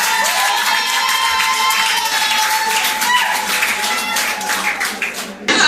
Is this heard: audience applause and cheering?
yes